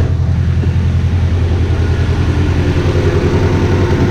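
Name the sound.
car engine idling, running on all four cylinders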